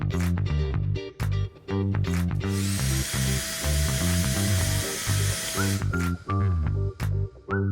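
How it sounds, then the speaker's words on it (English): A 1-inch hole saw cuts through a ceiling tile, giving a sustained whining, grinding drill noise with several short starts and stops, close and fairly loud, with no talking. "To start with, we'll take down the ceiling tile and drill the hole for our wires."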